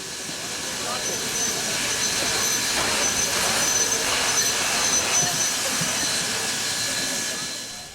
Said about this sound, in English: The train eases into Brightside Yard.